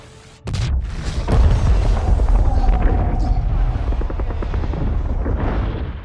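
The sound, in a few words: explosions in a film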